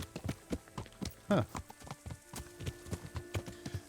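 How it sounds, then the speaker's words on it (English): Horse hooves clip-clop in the medieval video game Kingdom Come Deliverance, a steady rhythm of close, hollow clops over a low hum, with a brief snort and a short murmur from a voice. "They've got lovely horses out front."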